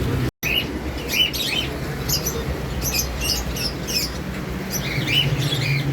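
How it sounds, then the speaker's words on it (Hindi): Tiny pet shop birds chirp and tweet in rapid, overlapping high calls throughout, fairly close, over a steady low hum of shop background noise with no talking. "ये भाई के पास सबसे छोटी वाली चिड़ियाँ यहाँ पेट शॉप पे, रावलपिंडी बोस्तान रोड 9 नंबर गली के कोने पे, बड़ी प्यारी हैं।"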